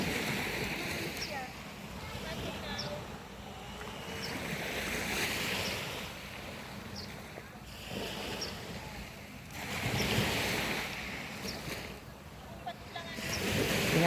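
Sea waves roll and wash ashore at dawn in a steady, moderately loud surge that swells and fades every few seconds, with wind noise on the microphone and no talk.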